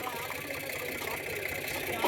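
A tractor engine idles at night by a river where the tractor is stuck, producing a steady, continuous mid-pitched rumble with no pauses.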